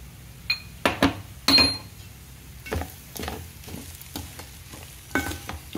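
A spoon stirs puffed rice powder into uggani in a hot pan, with irregular scraping strokes, light sizzling and a few metallic clinks, close up and without talking.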